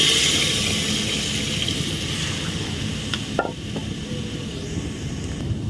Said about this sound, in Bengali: এবার ঝোল করার জন্য পরিমাণ মতো জল দিয়ে দিচ্ছি।